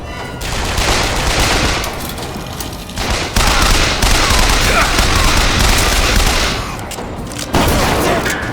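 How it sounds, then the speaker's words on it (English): Dense, loud gunfire fills a Bioshock Infinite battle, with rapid bursts and booms layered continuously with only brief dips in intensity. "Keep shooting!"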